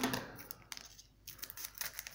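Someone tears at a Pokémon card booster pack foil, producing a series of sharp, close ripping and crinkling bursts with a brief quiet pause in the middle.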